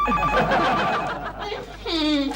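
A telephone rings with a warbling electronic trill, close and fairly loud, preceded by a busy mix of other sounds.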